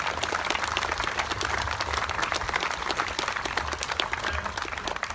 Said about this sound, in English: Yes, that's worthy of applause.